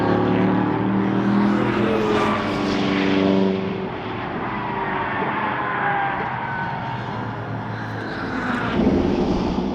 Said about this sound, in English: This is the small grid of the what I call modern GT cars heading down into the old hairpin.